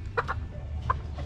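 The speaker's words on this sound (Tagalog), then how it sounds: "Ayan, babaeng manok." A hen gives a couple of short, close clucks over a low hum of farmyard background.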